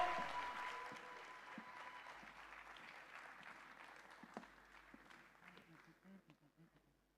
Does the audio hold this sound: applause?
yes